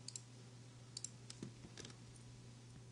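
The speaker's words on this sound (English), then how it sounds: "So I'm just clicking on each keyframe" Sparse mouse clicks from someone stepping through keyframes in animation software, heard as soft, separate ticks spaced through a quiet stretch over a steady low electrical hum.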